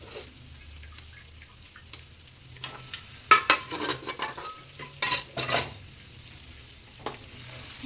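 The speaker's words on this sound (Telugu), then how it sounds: "ఒకసారి మొత్తం కలిపేసుకోవాలి" Mutton paya curry stirred in a pot at close range: scraping and clinking of a spoon against metal come in short bursts over a soft simmering sizzle, with brief pauses between strokes.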